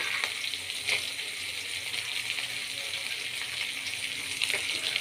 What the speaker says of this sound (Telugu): పచ్చిమిర్చి వేగిన తర్వాత వేరుశనగ గింజలు ఇప్పుడు వేస్తాను.